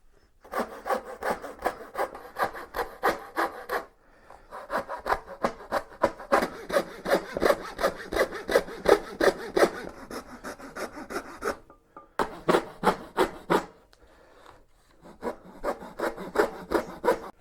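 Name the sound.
saw cutting out a piece of wood for a fishing reel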